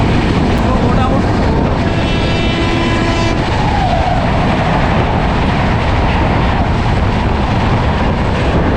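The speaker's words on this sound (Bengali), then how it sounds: "হট করে ট্রেনটা কিন্তু ছেড়ে দিয়েছে।" Interior of a general coach on the Shalimar–Puri Dhauli Express passenger train, with a loud, continuous rumble and rattle of the moving train and some clatter running steadily throughout.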